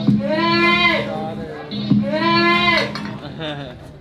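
Two long wavering bleats from a nearby goat, one after another with a short pause, followed by a softer trailing call.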